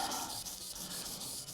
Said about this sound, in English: I'm just giving it a light sanding.